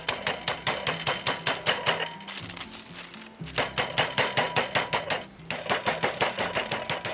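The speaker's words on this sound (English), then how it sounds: "fold over your baking paper, grab your rolling pin and hammer away" A rolling pin pounds chicken breast for schnitzel under folded baking paper, fast rhythmic thumps in steady bursts, loud and close, with two brief pauses.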